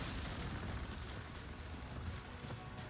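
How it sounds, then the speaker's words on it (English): A grenade blast in Resident Evil 4 Remake, heard as a dense, sustained low rumble of explosive noise and debris filling the whole moment, loud and steady with no voices over it. "Can I just toss a grenade up there, you think?"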